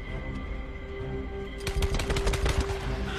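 Gunfire in the Days Gone survival video game: a quiet ambient stretch, then a sudden rapid burst of loud, close automatic shots in the second half, with no talking.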